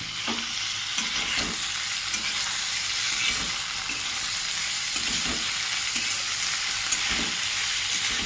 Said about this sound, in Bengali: পেঁয়াজ টমেটো দিয়ে দিলাম এবার গ্যাসের ওভেনটা বাড়িয়ে দেবো